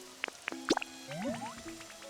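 Rain drips in the Pokémon Pokopia video game, with a series of distinct plinking water drops, close and clear over a low background, followed by soft tonal game sounds.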